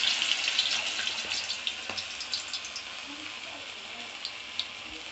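Urad dal vada batter, shaped with a hole in the middle, crackles and sizzles steadily in a pan of hot oil, with small pops scattered through a continuous bright hiss.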